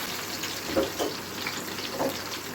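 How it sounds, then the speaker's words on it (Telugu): Onions for veg biryani sizzle in a hot pan as a constant hiss, with a few soft stirring scrapes and clicks close by, and nobody speaks. "ఆనియన్స్ వేసి వేయించుతూ ఉన్నాను."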